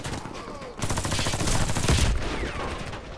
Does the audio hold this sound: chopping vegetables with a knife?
no